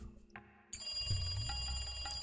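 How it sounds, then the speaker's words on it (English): A telephone in the Higurashi visual novel starts ringing, a sudden bright, sustained electronic tone that comes in partway through and holds steady after a quieter lead-in. "As soon as I put the phone down, it rang again."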